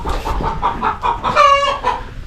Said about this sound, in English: I'm sure this chicken won't stay like this, but it's sunbathing